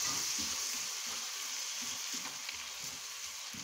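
Coconut candy mixture sizzles in a hot pan in a Nigerian kitchen while being stirred, a constant hiss with soft, rhythmic scraping strokes underneath, close and fairly quiet.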